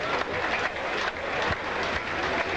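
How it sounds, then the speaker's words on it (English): A cricket crowd at a 1982 Sri Lanka v England Test match applauds a stumping with a steady, dense wash of clapping from a large distant crowd, continuous throughout. "You can hear the applause"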